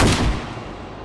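A single loud gunshot in the video game Life is Strange: Reunion booms at the very start, then fades into a decaying rumble.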